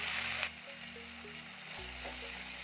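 Soaked toor dal sautéing in hot oil for a Maharashtrian kardai leaf bhaji, a steady close hiss of frying with a few soft crackles and a brief thump of the pan.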